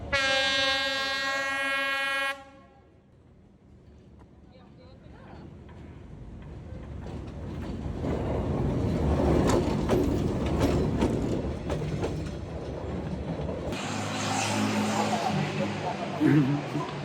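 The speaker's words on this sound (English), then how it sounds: "hopefully you will see a train pass by and possibly pee on you" A train rolls slowly down the narrow Hanoi Train Street between buildings, its rumble and clattering wagons building from quiet to a loud, close pass, with a horn-like tone at the start and people talking nearby.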